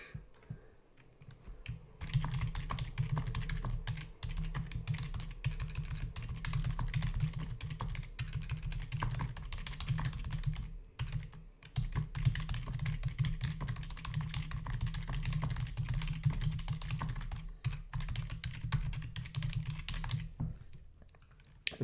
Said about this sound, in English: I'm just typing something in the premium group real quick.